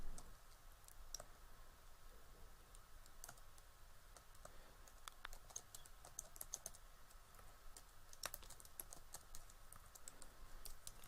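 Faint, quiet typing and key clicks on a computer keyboard while entering data in Microsoft Excel, scattered light taps over a low steady background hum.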